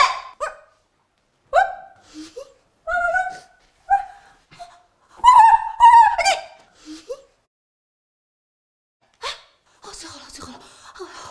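A person imitates a dog with a series of short, voiced barking yelps in uneven bursts, heard close and clear against a quiet background, with a few breathy sounds toward the end.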